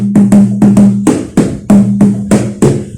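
A hand drum made of a hoop covered with two tied leather heads is struck in a quick, uneven rhythm, about a dozen close, loud thumps with a resonant low ring between hits.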